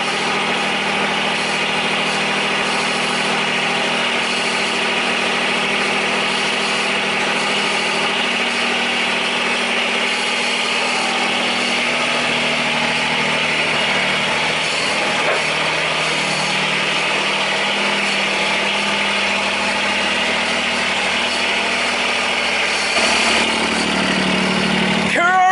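A John Deere 332 lawn tractor engine idles steadily and continuously, a close, even mechanical drone with faint vibration throughout.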